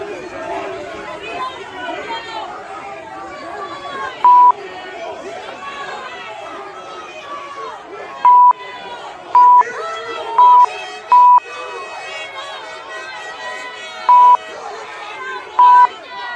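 An angry crowd of protesters surrounds Justin Trudeau, dense shouting and chatter from many voices blending into a steady roar, with repeated short electronic beeps cutting through at intervals.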